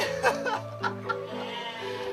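Garut sheep bleating close by, a few short wavering bleats in quick succession over a couple of seconds, fairly clear with faint background noise.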